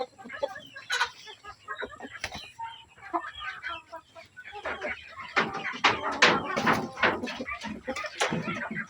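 Native chickens cluck and squawk in an overlapping, busy chorus close by, growing louder and denser toward the end, with some faint human voices in the background.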